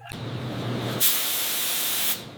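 Degreaser sprayed onto the carburetor of a 1956 Ford F-100: after a low hum, a loud, steady aerosol hiss runs for about a second before cutting off sharply.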